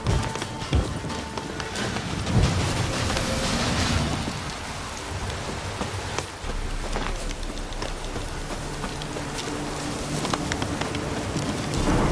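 Steady heavy rain in the video game The Witcher 3: Wild Hunt pours down throughout, a dense hiss with scattered drops and a low rumble, continuous and close.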